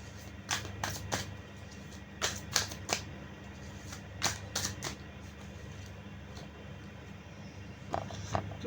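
Tarot cards are picked up and handled, producing several clusters of crisp, close slaps and flicks separated by quiet gaps over a faint background hum.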